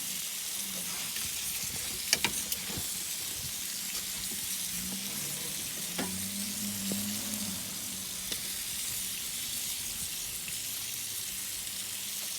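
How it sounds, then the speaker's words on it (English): Onions and peppers sizzle steadily in a sizzler pan inside an Ooni Pro wood-fired oven, a constant crackling hiss with a few sharp clinks near the start and a low hum underneath. "put some onions and peppers in the bottom. Cook them a little bit"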